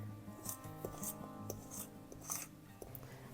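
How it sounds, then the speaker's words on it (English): Pastry cutter working cold butter into gluten-free flours for vegan dough, a soft steady scraping and rasping with repeated light cuts, close and quiet, over faint background hum. "I'm going to coat the butter in the flours and then cut them"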